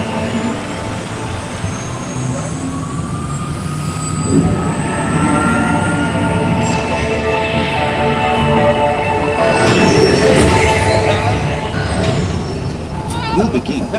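Test Track ride vehicle at Epcot, Disney World, a loud, continuous mechanical rumble and whine that builds in the middle, with an automated announcer voice over the top.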